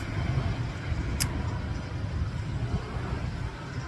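Street traffic with cars driving freely through an unregulated crossing, a continuous low rumble of engines and tyres at moderate distance, with one brief sharp click partway through and no speech.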